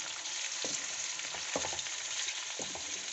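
One kilo of meat fries with onions in a pot, a steady sizzle broken by three stirring scrapes, and nobody speaks.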